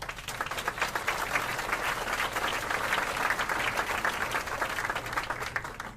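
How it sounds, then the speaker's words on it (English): Sustained audience applause at a charity benefit dinner, a dense, steady wash of many hands clapping at even loudness throughout, with no talk over it. "Another round of applause,"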